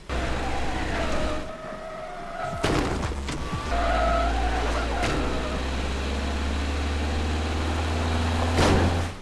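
A car in the video game Teardown starts up and drives off, a steady low engine drone holding under scattered clunks, bumps and a few sharp impacts, with a brief squealing tone partway through.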